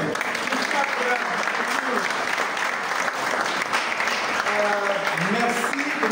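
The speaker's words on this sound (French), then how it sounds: "est-ce que vous pouvez applaudir pour la CRTV parce qu'ils veulent vous applaudir aussi." An audience at a cinema screening claps steadily and loudly throughout, a thick wash of applause with a few voices calling out over it toward the end.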